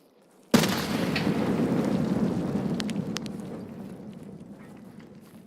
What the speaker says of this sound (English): Let's hit him with the nade.